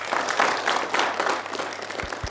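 A talk show studio audience breaks into brief, steady applause, a dense crackle of many hands that thins slightly, with two dull thumps near the end.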